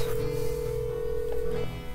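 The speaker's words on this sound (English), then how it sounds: "Now I'm gonna play a phone call of the hint for that." Telephone dialing for a hint call in the Nancy Drew game Danger on Deception Island: a steady electronic tone holds for most of two seconds, with a couple of faint button beeps near the end, clear and close.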